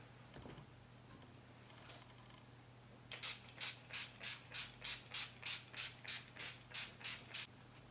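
Rapid bursts of NYX Matte Setting Spray misted onto a face, about a dozen short evenly spaced hisses in a quick rhythm, close and fairly loud after a few seconds of quiet, with no talking.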